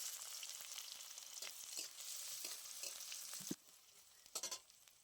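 Chopped onion hits hot oil with whole cumin seeds, giving a steady close sizzle that drops suddenly partway, followed by a few short sharp stirring bursts.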